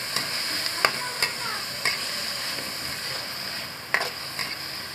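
Sotanghon glass noodles with lobster balls stir-fried in a pan, with a soft continuous sizzle broken by several sharp clacks of a utensil against the pan, close up and with no talking.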